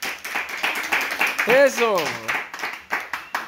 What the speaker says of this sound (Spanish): Un aplauso para Melissa porque ganó.